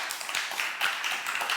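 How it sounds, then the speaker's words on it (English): Audience applause for a conference panel, a fairly quiet, brief spatter of clapping hands from a room of people, steady for a moment with no voices. "A round of applause for our panel."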